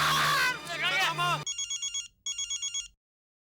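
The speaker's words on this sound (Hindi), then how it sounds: "सुंदर का फोन।" A telephone rings in two electronic bursts of rapid warbling tones, right after someone speaks; the ringing stands alone with no talk over it.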